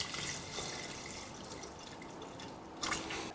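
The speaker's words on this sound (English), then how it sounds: "I'm just going to make up the difference with some purified water" Purified water poured into an Instant Pot of vegetable soup, a soft close trickling and splashing of liquid that runs steadily, then briefly swells near the end, with no one talking.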